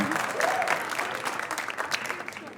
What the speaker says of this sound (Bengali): সবাই জোরে তালি দাও।